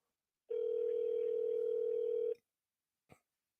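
A telephone line gives a single steady dial tone lasting about two seconds, close and fairly loud, followed by a brief faint click, placed during an outbound sales call.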